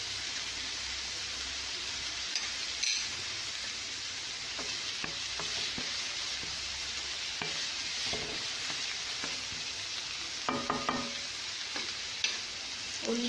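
Onions sautéing in a pan for tapioca cutlets, a continuous broad sizzle with scattered scraping and clinking stir strokes, close and fairly loud, with no talking.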